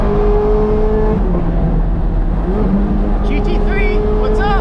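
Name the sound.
Ferrari 430 Scuderia naturally aspirated engine revving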